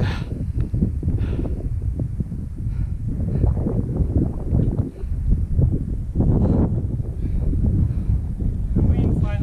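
Strong wind buffets the microphone on the summit of Mt Bogong, Victoria's highest peak, a loud continuous rushing roar that surges and dips without letup.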